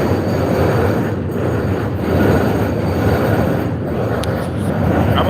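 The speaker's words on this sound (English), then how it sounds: "When y'all hear that train, you know we midway through the show, man." A New York City train rumbles past, loud and continuous, a dense roar with slight swells and a faint metallic squeal near the end, no talk over it.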